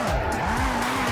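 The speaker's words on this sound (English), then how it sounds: "Never mind, it's really good at drifting." Tire squeal from a car drifting in the Roblox game Car Crushers, a loud, close screech riding over a revving engine tone that dips and climbs as the car slides, with no voices.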